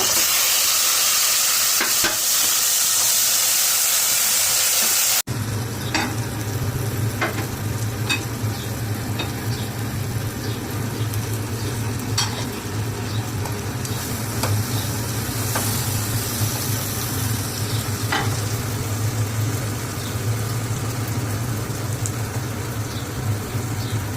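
Beef pickle frying in a pan with ginger-garlic paste and mustard, stirred continuously: steady loud sizzle and hiss with repeated scraping strokes of the spoon, following a brief burst of harsher hiss at the start.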